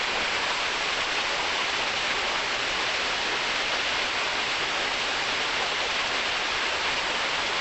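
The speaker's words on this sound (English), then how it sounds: "This is the little waterfall here." A little waterfall in northern Taiwan, near hot springs, makes a dense, steady rushing hiss of falling water, loud and unbroken throughout, with no voices.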